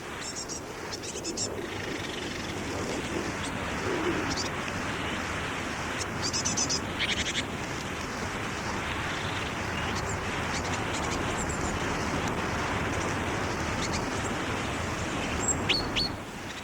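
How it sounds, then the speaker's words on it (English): Great tit calls from a bush where young birds keep contact with adults, faint, short chirps scattered through a steady outdoor background, with other bird sounds and a low murmur of voices. "That great tit call is so like a chaffinch, isn't it?"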